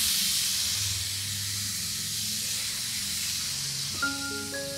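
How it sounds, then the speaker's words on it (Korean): A spray bottle mists water onto a Schlumbergera truncata Christmas cactus, a continuous soft hiss lasting several seconds, with a few faint tonal notes entering near the end. "야외에서 좀 환기가 잘 되는 곳에서 재배한다면 이렇게 스프레이를 해주셔도 됩니다."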